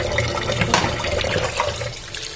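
Muddy paddy-field tapioca pieces are washed one by one in water, with a constant splashing and running-water rush close by, a sharper slosh near the middle, no voices.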